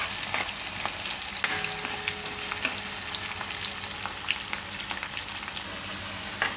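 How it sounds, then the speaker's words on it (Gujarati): Onion frying in a pan for a Gujarati kantola dish, giving a continuous close sizzle with scattered crackles and occasional stirring clicks, with no talking. "તો ડુંગળી આપણે એકાદી મિનિટ પકાવી લીધી આ રીતની."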